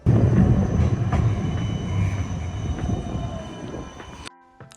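A tram rumbles along the rails in Amsterdam in a steady low roar, loud and close, fading at the end with a faint squeal.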